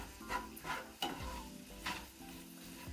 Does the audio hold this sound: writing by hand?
no